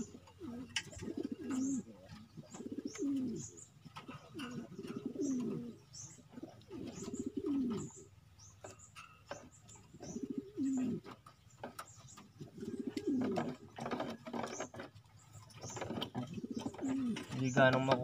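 A recovering pigeon coos in repeated low, throaty phrases that run steadily at close range, with faint chirps and a soft voice talking in the background.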